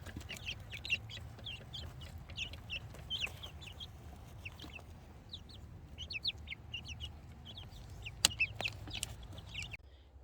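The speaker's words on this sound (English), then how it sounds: "I'm gonna go check on the chickens" Several chickens cluck and chatter softly at a distance over a low background hum, with scattered short calls and one sharper squawk.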